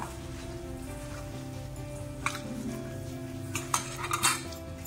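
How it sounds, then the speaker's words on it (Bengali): A banana flower chop mixture is worked together with cornflour and Kashmiri chilli powder in a bowl, giving soft squelchy mixing with a few sharper clinks of utensil on the dish near the end, close and fairly quiet. "দিয়ে ভালো করে মাখাতে হবে"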